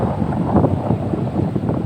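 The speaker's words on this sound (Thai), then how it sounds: "ลมแรงมากเลยครับท่านผู้ชมทุกท่านนะคะ" Strong wind buffets the microphone at a reservoir fishing spot near an old village in Lopburi, Thailand, a continuous loud rumbling roar with no speech.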